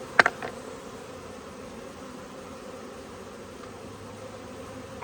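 Honey bees buzz faintly and steadily around a hive frame during a beekeeping inspection, a low continuous drone with a couple of brief louder knocks near the start.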